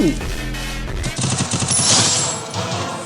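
Rapid gunfire from a battle royale video game: dense, repeated bursts of shots, loud and close, continuing through the whole moment with no talking.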